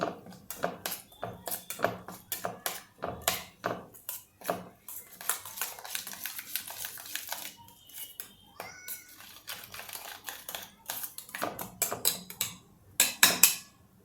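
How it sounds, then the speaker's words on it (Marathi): Garlic paste (kharda) being stirred into yogurt for a Maharashtrian dahi chatka, with a spoon clinking and scraping against a bowl in quick, uneven taps and scrapes throughout, close and fairly clear. "हा खरडा आता आपल्याला दह्यात टाकायचा आणि हे हलवून घ्यायचं"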